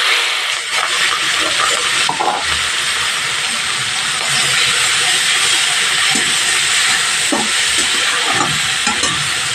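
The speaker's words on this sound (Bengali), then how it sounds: "এইভাবে চিংড়ি মাছটা আমি ভেজে নেব" Shrimp frying in hot mustard oil, giving off a loud, continuous hiss and sizzle close by, with faint scrapes and clinks mixed in.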